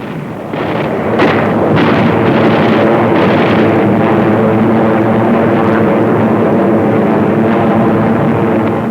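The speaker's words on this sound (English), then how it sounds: "B-25s and P-51s strafe and bomb the island" B-25 bombers and P-51 fighters strafe and bomb an island during a World War II landing operation, a loud, dense rumble of engines and explosions with heavy booms in the opening seconds, then continuous roaring noise.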